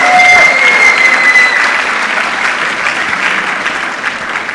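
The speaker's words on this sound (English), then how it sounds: "give yourselves a round of applause" Loud, dense audience applause filling the room, continuous clapping held at steady volume throughout with a brief whistle early on and no speech over it.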